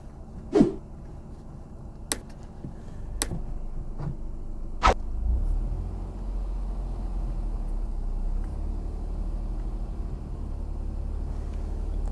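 A learner car pulling away and driving on during a driving lesson, a few sharp clicks from inside the cabin before a low engine and road rumble builds up and continues steadily.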